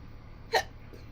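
A single short, abrupt burp after drinking soda, brief and fairly quiet against a low indoor hum.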